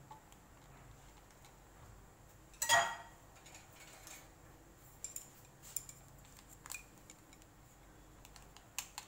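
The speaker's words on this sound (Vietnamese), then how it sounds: "Mình cắt gói bột sâm sâm bỏ trong này." Scissors cut open a packet of sâm sâm drink powder with one crinkly snip, followed by faint scattered clicks and taps in a quiet room.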